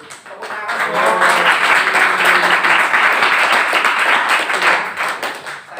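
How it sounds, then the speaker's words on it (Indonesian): An audience at a university lecture breaks into applause, dense clapping that swells quickly, holds steady for several seconds, then thins out. "Tepuk tangan dong."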